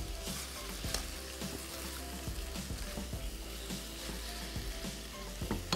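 Three vegetables added together to a hot pan, sizzling steadily in oil, with soft stirring clinks and scrapes recurring in an irregular rhythm, close up.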